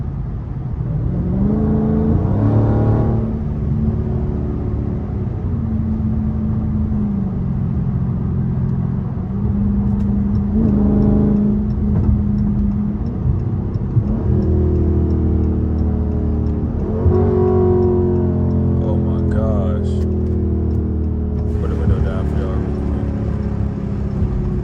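A Dodge Charger Scat Pack engine rumbles steadily and revs up and down several times, the deep throaty tone swelling and fading close by, while driving in the city at night.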